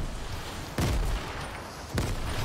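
Gunfire in a Fortnite match: two sharp, loud shots about a second apart, each a hard broadband crack with a booming low tail, over steady game background.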